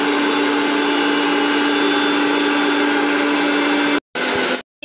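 A mixer grinder whirs steadily while grinding herbs for homemade herbal hair oil, a loud continuous motor whine that cuts off near the end, restarts briefly and stops again.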